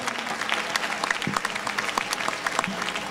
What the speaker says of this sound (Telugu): ఒక్కసారి చప్పట్లతో ప్రోత్సహిస్తే మనం కార్యక్రమం మొదలు పెడదాం